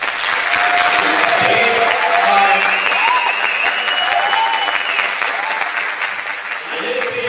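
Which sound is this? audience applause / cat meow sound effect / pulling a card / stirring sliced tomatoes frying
audience applause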